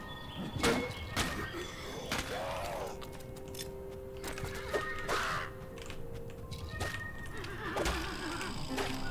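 A horse whinnies in the Western video game Colt Canyon, a few high neighs and snorts over a busy backdrop of crow caws, clip-clop and gunfire-like thumps, fairly faint with no talking.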